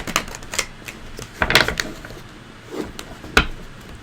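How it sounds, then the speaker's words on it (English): Thick tarot cards are handled and shuffled in small hands, giving a series of close, irregular clacks and riffles with quiet pauses between them and no talk. "can shuffle them, but I can't like shuffle them the way that I want because they're so thick"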